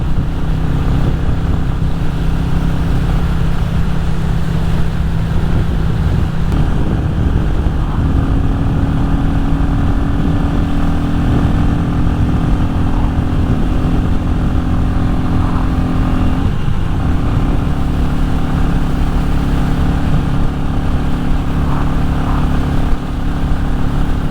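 A Royal Enfield Classic 350 motorcycle cruising at about 50 mph on an open road, a steady, loud engine drone with a constant low thump, mixed with rushing wind, holding an even pace throughout.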